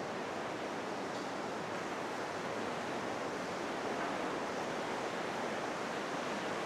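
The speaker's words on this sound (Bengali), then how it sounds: "পানি নামতেছে, সেই জন্য পানির অনেক আওয়াজ পাওয়া যাচ্ছে।" Water pours down inside a 330-metre cave in Perlis, a broad, steady rushing roar that stays constant and close without any break.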